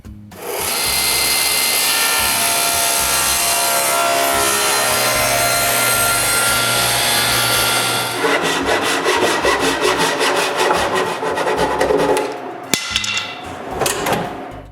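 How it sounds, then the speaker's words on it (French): A saw cuts through the solid-wood frame of a drawer, first as a loud, steady, grinding rasp and then as quicker rhythmic strokes with brief pauses near the end; no voices. "Je dois donc couper un bout de tiroir."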